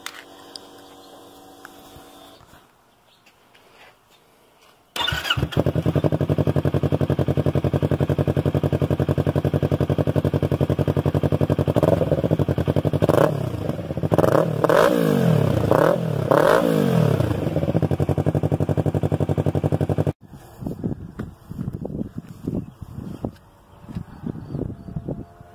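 After quiet handling noises, a 2017 Yamaha R3 with an M4 Street Slayer exhaust starts abruptly and idles loudly with a deep throbbing exhaust, revving several times before cutting off into rattling clatter.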